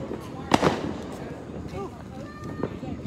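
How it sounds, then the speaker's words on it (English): Fireworks burst outdoors in a short cluster of sharp pops and crackles, one louder burst standing out, while people chatter nearby and a faint whistle rises later. "this is those good old fireworks"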